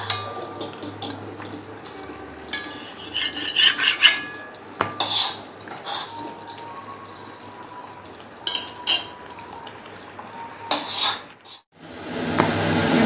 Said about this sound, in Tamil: ப்ரெட்டை வந்து நம்ம கொஞ்சம் லைட்டாக சூடு பண்ணி ப்ரௌனிஷ் கலர் வர மாதிரி எடுக்கலாம்